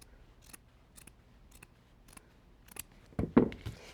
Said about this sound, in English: I'm cutting through the outside edge of that jean material.